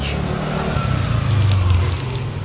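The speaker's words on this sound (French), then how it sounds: "Forcément, il y a un peu plus de trafic." Car traffic on a Tokyo street, a nearby vehicle's engine swelling and rumbling as it passes close, loud and steady over a background hum of the city.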